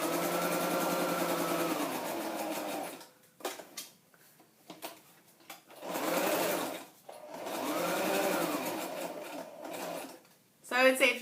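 An inexpensive home sewing machine stitches in long fast whirring runs broken by short pauses, close and steady, used while making a scrapbook page.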